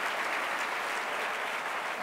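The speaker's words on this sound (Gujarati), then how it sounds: "એકવાર તાળીઓ એના માટે સ્પેશિયલ આપીએ." Sustained applause from a school event audience honouring students who placed first and third in a Surat yoga competition, a dense steady wash of clapping with no talk over it.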